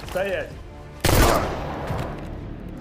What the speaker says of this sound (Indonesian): ia dihentikan oleh anak buah Durov lalu menembak semua ajudan Zakharin